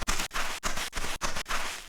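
Six gritty, hissing footsteps on sand in a Viking Village video game, each a brief scrunch separated by tiny gaps in a steady walking rhythm, close and fairly loud.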